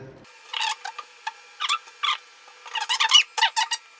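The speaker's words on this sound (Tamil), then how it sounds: "இப்போ நம்மளுடைய கடைசியாக பேனலையும் க்ளோஸ் பண்ணிடலாம்" A PC case side panel slides shut in a series of short squeaky scrapes and rasps, close and alone, after a brief low thump at the start.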